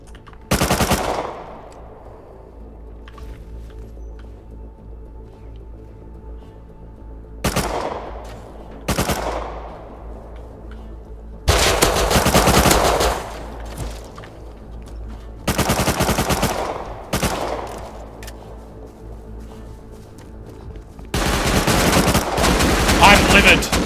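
Automatic AK assault rifle fire in the Rust survival game: several loud, close bursts of rapid shots separated by short pauses, with sharp echoing tails between them and no voices.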